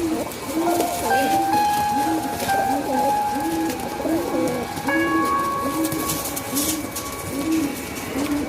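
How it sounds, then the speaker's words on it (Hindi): Malwai pigeons at a Punjabi pigeon farm coo in a steady repeating rhythm, close and continuous, with a faint whistle-like tone and low background noise beneath. "ये देखो भाई, किस क्वालिटी के कबूतर है ये भाई।"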